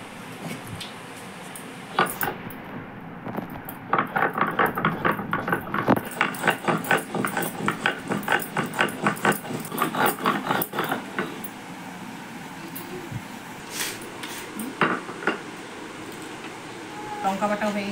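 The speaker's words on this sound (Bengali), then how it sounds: "এখন শুকনো লঙ্কা বাটবো" Dried red chillies ground on a traditional grinding stone, a steady run of rhythmic rubbing strokes, close and fairly loud, with a voice talking over parts of it.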